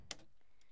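Quiet keystrokes on a computer keyboard as something is entered into a search box: a sharp click, then a few lighter taps spaced unevenly, faint and close.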